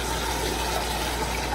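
Water runs in a steady, continuous hiss and gurgle close by while hair is being washed, with no speech.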